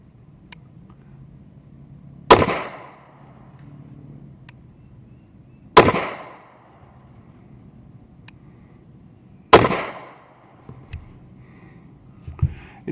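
Three sharp, evenly spaced shots from an old used Taurus 709 Slim 9mm pistol, each a loud crack with a short ringing tail, about three and a half seconds apart over a faint background.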